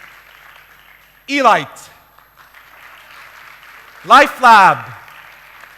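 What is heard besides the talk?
audience applause after each company name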